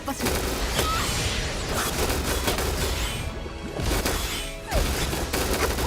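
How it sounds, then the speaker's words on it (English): Cannon fire in a video game, repeated heavy blasts and crashes layered over dense game noise, with a person's voice partly audible through the action. "And then we go blasting with the cannons."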